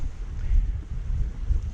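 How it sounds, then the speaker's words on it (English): Steady wind buffets a sailboat at sea, a continuous low rumbling roar with gusting swells, loud and close to the microphone, with no voices. "Today it's a bit windy."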